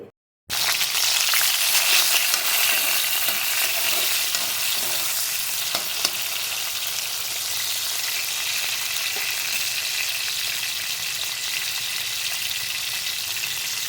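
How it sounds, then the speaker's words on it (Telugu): Tomato pieces frying in oil in a pan for nalleru chutney, a loud, continuous hissing sizzle that starts abruptly after a brief silence and holds steady, with faint stirring scrapes and no voices. "టమాటా ముక్కలు బాగా వేగనియాలి"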